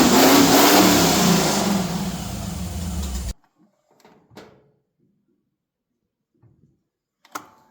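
Crate engine in a 1955 Chevy revs loudly and roughly for about three seconds, then cuts off, followed by faint clunks and shuffling sounds in a quiet garage.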